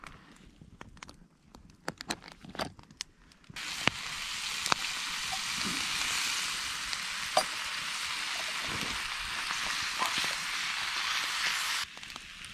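Steak sizzling on a big outdoor grill, a steady broadband hiss that starts abruptly after a few seconds of quieter clatter and holds evenly before dropping away near the end, with scattered pops and taps.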